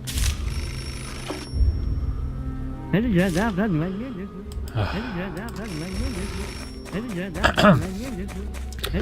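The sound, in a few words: telephone ringing in the video game Beholder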